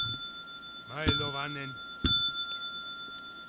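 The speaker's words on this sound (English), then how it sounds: "we have a nice little bell here, and That's what it sounds like down on the dock. Every time they push the button, it goes." A dock bell in the Tolkiencraft Minecraft modpack rings twice, each a bright, sharp ding about a second apart with a short ringing tail, while someone talks briefly between the strikes.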